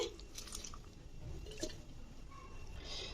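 Cooked yardlong beans being dropped into a mixer jar make faint, soft squishy and wet plopping sounds over a low background hum.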